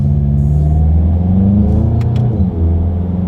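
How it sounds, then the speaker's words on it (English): A 2020 Volkswagen Golf GTI with a dual-clutch gearbox accelerates at low speed as the paddle shifters change gears: a steady, close engine rumble with rising harmonics and a brief dip at a shift, no talk. "let's just do a quick little paddle shifter test here"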